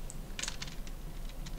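Several quiet clicking keystrokes on a computer keyboard, soft and close, spaced irregularly over a faint low hum.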